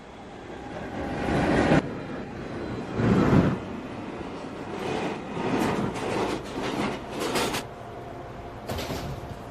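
A Manhattan-bound NYC subway 1 train pulls into a station with a loud, steady rumble of wheels on rail, broken by several sharper rushing surges as the cars roll past.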